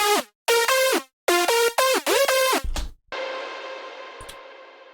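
Hardstyle four-layer synth lead from FL Studio played dry without reverb: punchy, choppy bright stabs with sliding pitch bends and hard gaps between them, then a sustained held note trailing off.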